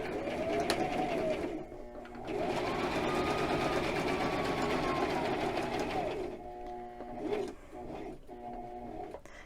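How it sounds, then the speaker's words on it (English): A sewing machine runs in steady bursts while backstitching, its motor whirring and needle clattering in close, continuous runs separated by brief pauses, with a voice talking over parts of it. "I'm going to just backstitch"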